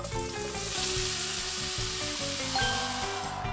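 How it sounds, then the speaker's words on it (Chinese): A pork chop fries in butter in a pan in Hong Kong, giving off a close, steady, crackling sizzle that runs unbroken, with soft tonal music underneath. "你说这面拿黄油煎了"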